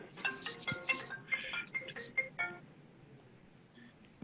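A mobile phone rings during a conversation, a melodic ringtone of rapid electronic notes playing in a short burst that then fades, heard faintly at moderate distance without talk over it.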